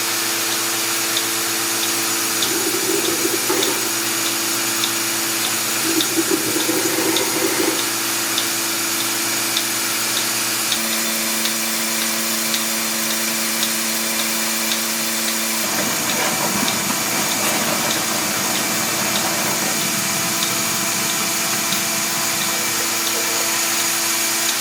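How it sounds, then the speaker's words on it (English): A cow milking machine's pump runs steadily, sucking hot rinse water through the lines with a continuous hum and hiss. Gurgling, slurping surges rise and fall over it, and nobody talks. "now I'm going to turn this on, and then it's going to suck all of that hot water through everything to get everything rinsed"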